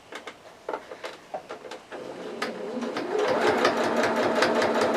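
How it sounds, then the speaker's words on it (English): A sewing machine top stitching along bias tape about an eighth of an inch from the edge, starting with slow separate stitches that speed up into a steady, loud, close whir. "Now I'm going to sew on top of my bias tape"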